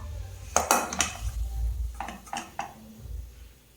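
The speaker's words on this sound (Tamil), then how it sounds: "ஸோ இப்போ அந்த தாளிப்பு வந்து இதில் ஆட் பண்ணிடலாம்" Tempering is added to millet (samai) pongal and mixed in, with a few sharp metallic clinks of a spoon against the pot, scattered scraping and soft stirring, close up and with no speech.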